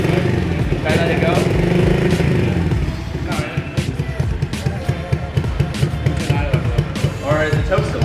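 A Kawasaki KLX110 farm bike engine runs after a choke adjustment, a close, choppy single-cylinder putter that revs up and down unevenly throughout.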